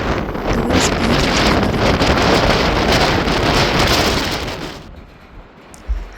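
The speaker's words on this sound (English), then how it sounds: "The wind was really strong." Strong wind near Yamdrok Lake in Tibet buffets the microphone with a loud, continuous roar that eases off near the end, with no voices.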